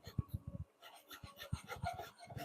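Hand file rasping against wood in quick short strokes, a soft uneven scratching rhythm, close and faint, with no talk.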